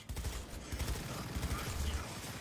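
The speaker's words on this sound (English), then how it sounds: "Damn, the homing bullets though, man." Rapid homing-bullet gunfire in the video game Cyberpunk 2077, a dense stream of sharp shots rattling close by for a couple of seconds with mechanical clatter.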